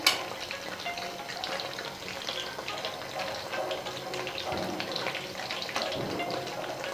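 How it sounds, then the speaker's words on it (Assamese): Okra (ladies finger) frying crisp in a pan over a low flame, a continuous soft sizzle and crackle with small popping bursts, steady and close. "ভেন্দিৰ একেবাৰে কম জুইত এনেকৈ ভাজিব লাগিব"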